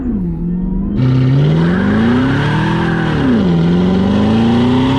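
Cadillac CTS-V launching hard, a loud close V8 engine note that jumps sharply in pitch, then climbs, falls and rises again through the gears with a steady roar.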